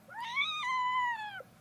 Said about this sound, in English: That cat, though.